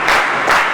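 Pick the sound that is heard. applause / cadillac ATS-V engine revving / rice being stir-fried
applause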